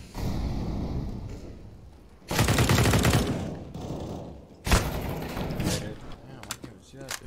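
Bursts of automatic gunfire in an online Xbox first-person shooter: a long heavy burst, then another loud burst after a pause, with scattered thumps and game sounds between them.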